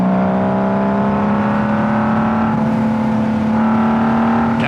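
Honda Valkyrie motorcycle engine held at high revs, a steady loud drone with a strong low hum and layered harmonics, rising slightly in pitch near the end, with no talking.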